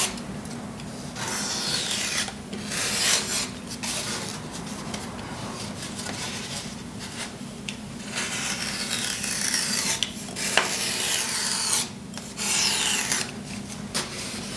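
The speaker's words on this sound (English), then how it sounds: "You'll know it's not sharp when it starts to tear at it." A dull blade drags and tears through a sheet of carving foam, giving a steady close rasping and rubbing that comes in repeated strokes with brief pauses, and no one speaks.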